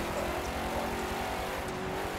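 A race car in a driving video game hums steadily at moderate volume, engine drone continuous throughout with no pauses and no talking.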